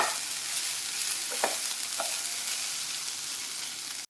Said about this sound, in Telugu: అందుకే నేను ఓపెన్ చేసి ఇలా ఫ్రై చేసుకుంటున్నాను